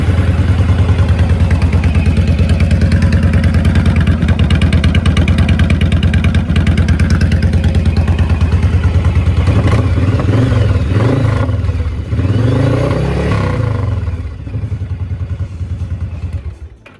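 A motorcycle engine runs after its carburetor has been cleaned, a loud steady idle with a rapid mechanical beat that eases off and fades toward the end, with no one talking.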